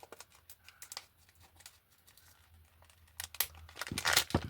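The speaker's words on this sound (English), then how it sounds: "I'm going to cut as close to the zipper as I possibly can." Close, quiet snipping and crinkling as scissors cut plastic packaging near a zipper, in short irregular bursts, growing louder and busier toward the end.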